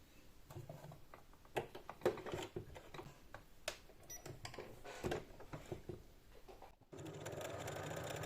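Sewing machine stitching a seam on a light, airy tunic-cape, with bursts of close mechanical whirring and ticking between pauses, then a steady continuous run near the end.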